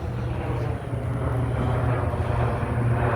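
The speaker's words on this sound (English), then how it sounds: "The plane. Probably just took off from New Orleans International." A steady, loud, low engine drone from an airplane that has just taken off from New Orleans International passes overhead continuously without talk.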